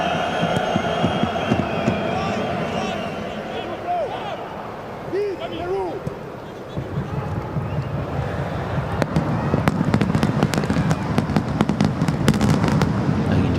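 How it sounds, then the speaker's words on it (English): Fireworks boom and crackle in rapid bursts near a stadium during a soccer match, with crowd noise and wind under a commentator's voice. "just hear some fireworks in the background"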